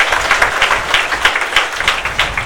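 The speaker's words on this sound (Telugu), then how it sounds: "మరొకసారి గట్టిగా క్లాప్స్ కొట్టండి" An audience at a free personality development training session claps firmly, a dense steady burst of applause that stays close and even throughout.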